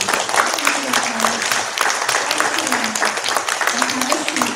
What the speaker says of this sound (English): Big round of applause for our student